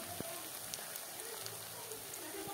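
Papaya fritters fry in oil in a wok, giving a steady, even sizzle and crackle with small pops throughout.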